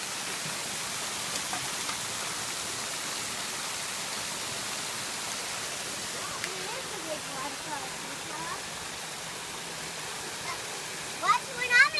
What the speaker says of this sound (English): There's the big waterfalls.